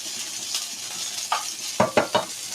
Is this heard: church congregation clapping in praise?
no